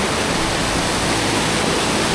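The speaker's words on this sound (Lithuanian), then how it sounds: "Kaip krioklys gražus." A waterfall roars as a dense, steady broadband rush of falling water, loud and close, with no break or other sound over it.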